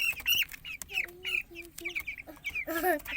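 A pet chicken clucks and squawks close by in a quick series of short, nasal calls, with a little background noise.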